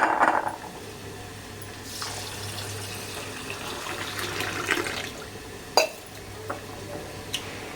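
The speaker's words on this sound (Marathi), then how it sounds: "इथे आता हे तांदूळ धुवून घेऊया." Rice being rinsed in water in a home kitchen while preparing dal khichdi: steady sloshing and trickling water with a few light clinks against the vessel, moderately close and without any talking.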